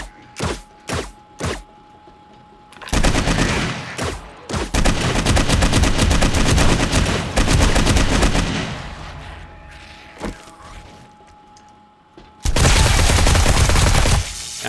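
Rapid bursts of gunfire in the zombie survival game 7 Days to Die, a few sharp single shots followed by long sustained volleys, loud and dense with brief pauses between.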